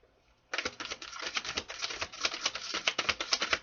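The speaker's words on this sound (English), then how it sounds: "These are hard to shuffle." Curved tarot-style cards shuffled by hand, a dense run of crisp rapid riffling flutters that starts abruptly and continues steadily, close and fairly loud with no talking.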